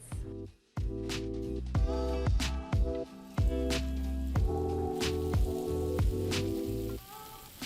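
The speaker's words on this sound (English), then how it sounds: "We'll brush the lobster tails with some garlic butter, then we'll cook it cut side down for about 2 to 3 minutes." Lobster tails brushed with garlic butter searing cut side down in a pan on a full surface induction hob, giving a steady crackling sizzle that runs beneath prominent background music.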